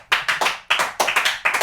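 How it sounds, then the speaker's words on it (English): A live audience claps for a podcast panel during a gaming convention edition, in several short bursts of loud, close applause with brief pauses between waves and no talk. "the live Twitch audience is now applauding us"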